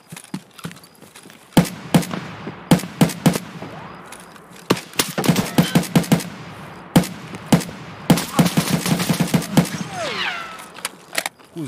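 Sharp gunshots in Escape from Tarkov on Shoreline at night: single cracks and quick bursts, close and loud, scattered across the whole stretch with little talk.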